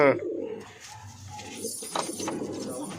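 Cooing from high-flying tournament pigeons kept as a breeding pair, low rolling coos repeating nearby under a man's speech in a loft setting.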